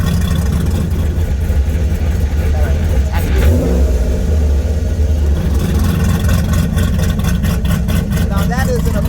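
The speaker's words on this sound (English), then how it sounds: "It's got a full custom exhaust with a cutout" An LS4-powered Fiero with a full custom exhaust and an open cutout idles loudly with a deep, continuous rumble and a couple of brief revs.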